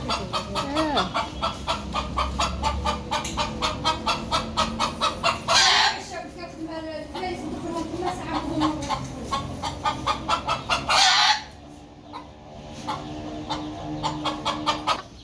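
Chickens on a rooftop in Oujda, Morocco, give rapid, close, loud clucking in quick repeated bursts, with a couple of sharper squawks and a brief lull near the end.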